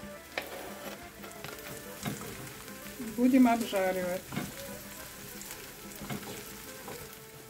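Carrots hit a hot pan and sizzle loudly for green borscht, a burst of frying with some stirring, while a voice speaks briefly.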